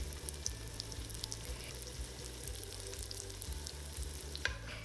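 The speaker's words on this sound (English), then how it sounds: "place the pancake in the middle of the pan and cook until it turns color" A scallion pancake fries in oil in a pan, giving a steady, fairly quiet sizzle and crackle with no voices over it.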